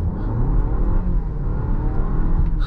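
Cabin view of a 455 hp Volvo S60 Recharge Black Edition plug-in hybrid with a rear electric motor pulling hard, a steady loud low engine drone and whir building continuously without pause or speech.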